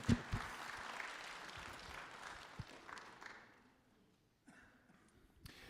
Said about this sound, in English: Feel free to give yourselves a round of applause.